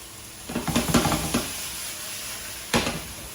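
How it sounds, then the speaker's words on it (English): Chicken thighs with tomato and peppers sautéing in a pan: steady sizzling with a few scraping stirs of a utensil, a cluster of strokes early and another near the end. "And we'll saute this."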